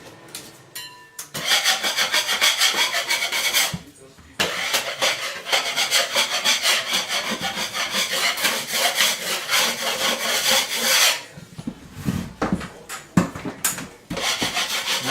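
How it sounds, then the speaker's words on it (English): A hand scraper rasps against a drywall surface to knock off loose paint chips, producing long, continuous scratchy strokes with brief pauses and a few lighter scrapes near the end; no one speaks. "scrape lightly to get any loose paint chips off the wall"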